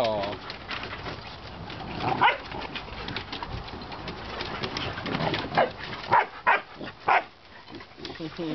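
A chihuahua gives several short, sharp barks, clustered toward the end over a muffled background of people talking.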